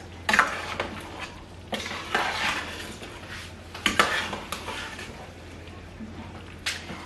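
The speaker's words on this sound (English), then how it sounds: "so you can see that it's been simmering. So I'm going to stir it a bit" A spoon stirs simmering Nigerian Banga soup in a metal pot, giving soft scraping and clinking strokes in an irregular rhythm, close up and fairly quiet, with no talking.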